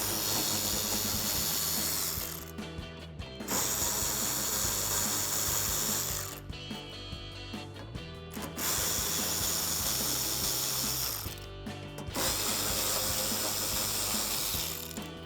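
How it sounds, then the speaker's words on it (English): An 8mm socket on a hand ratchet backing screws out of the inner wheel well liner of a 2019-2023 RAM 1500 pickup, sounding as rapid continuous clicking bursts of several seconds each, separated by brief pauses, loud and close. "I'm gonna use my 8mm socket to remove some of the screws here on the inner wheel well"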